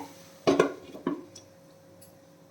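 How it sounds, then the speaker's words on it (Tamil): A lid set onto a pan of mushroom masala on the stove, two close metallic clanks about half a second apart, followed by a quiet kitchen. "ஓகே, மூடி வச்சிடுறேன்."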